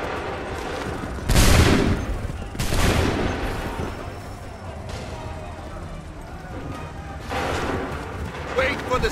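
Musket volleys in Assassin's Creed III Remastered during the Battle of Lexington: several loud, crackling massed volleys a few seconds apart, each fading into rumble, with voices shouting and talking between and under them.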